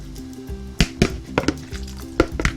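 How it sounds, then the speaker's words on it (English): Clams sit simmering in a white wine and clam juice sauce in a pan, giving a soft sizzle and bubbling broken by several sharp clinks and scrapes of a utensil against the pan. "I'm going to let this simmer and reduce"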